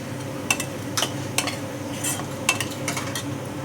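Onions fry in oil for an egg curry, a soft background sizzle broken by several sharp metallic clinks and scrapes of a spoon stirring against the pan, close and without speech.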